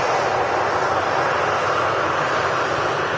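A Boeing 787-8 Dreamliner takes off from runway 23L at Manchester Airport, its engines giving a loud, steady, unbroken roar heard from a distance outdoors.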